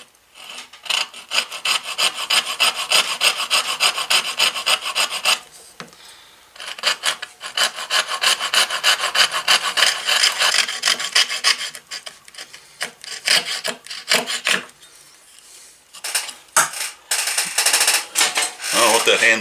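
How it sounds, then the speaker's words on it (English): A trusty little coping saw rasps back and forth through a hard hammer handle on a vintage cobbler hammer, with long continuous stretches of dense sawing broken by brief pauses, loud and close. "I'm just going to take my trusty little coping saw and I'm going to cut it off right there."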